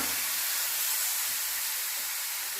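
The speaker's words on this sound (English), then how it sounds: "We're going to drop it in this hot skillet and sear all sides." A hunk of meat sears in a hot, dry skillet, giving a steady, loud, broadband sizzling hiss that holds even and unbroken for the whole stretch, with no voices.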